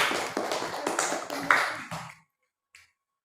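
Classroom applause as students clap for a classmate in a maths lesson, a brief burst of sharp, close hand claps that thins and stops abruptly, then near silence with a faint tap.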